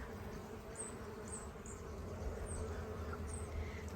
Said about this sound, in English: Don't know if you can hear the bees